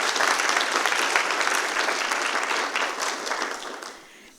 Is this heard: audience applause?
yes